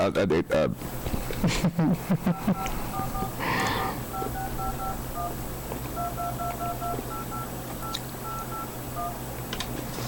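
Telephone keypad tones are pressed in a short melodic sequence, clear beeps stepping between pitches over a steady background hum, with a few handling clicks and a brief breath-like noise early on.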